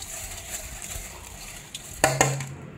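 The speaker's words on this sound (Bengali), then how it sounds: "নুন হলুদ মাখিয়ে নিয়ে নিচ্ছি" Boiled eggs are rubbed by hand with salt and turmeric in a bowl in a home kitchen for egg curry: soft, faint stirring and scraping, then two sharp clinks of the bowl near the end, with no talk.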